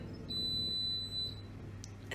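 A single long, high-pitched electronic beep from a washing machine, steady for about a second, over a low indoor hum.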